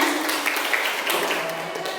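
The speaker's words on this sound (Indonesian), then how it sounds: "Tepuk tangan dulu untuk tangannya." A classroom of students claps together, producing a dense, steady wash of applause that lasts the full two seconds at close range.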